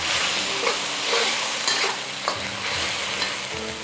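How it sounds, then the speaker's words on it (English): Hokkien noodles are stir-fried with oyster sauce, dark soy sauce and sweet dark soy sauce, giving a loud, constant sizzle. A spatula tosses and scrapes the food throughout, close up and with no voices. "Stir and blend everything well, about 30 seconds"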